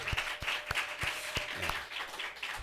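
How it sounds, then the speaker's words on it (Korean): A church congregation at a Sunday morning service claps in welcome, with scattered, uneven hand claps from nearby that continue steadily for a few seconds. "우리 정 선생님 우리 환영하면서 박수 한번 하겠습니다."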